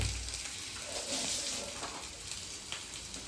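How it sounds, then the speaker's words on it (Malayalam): Small onions sizzle in coconut oil for a pumpkin stir-fry, with garlic, ginger and curry leaves in the pan. A steady close frying hiss runs throughout with faint stirring scrapes and no talk. "ചെറിയ ഉള്ളി ഇട്ടതിന് ശേഷം അത് മൂത്ത് വരച്ച്"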